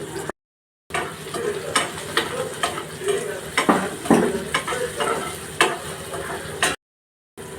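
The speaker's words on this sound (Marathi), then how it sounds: "कांदा तो छान नरम होईपर्यंत परतून घेते" Chopped onion and green chillies sizzle and sauté in a hot pan for okra bhaji, with steady frying crackle and a spatula stirring and scraping against the pan, close up and without talk.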